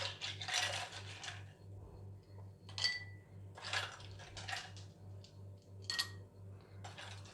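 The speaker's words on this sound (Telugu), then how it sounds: "సబ్జా గింజలు వేసిన తర్వాత ఇందులోకి ఐస్ క్యూబ్స్ వేసుకోవాలి." Ice cubes drop into glasses of mint lemon drink with soaked sabja seeds, a string of faint clinking taps spaced irregularly over a steady low electrical hum.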